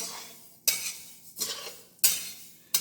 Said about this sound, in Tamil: எல்லாமே தீக்கு கம்மி வச்சுட்டு தான் நான் வறுக்கிறேங்க. கெட்டி பாத்திரத்தில் வறுக்கிறேன்.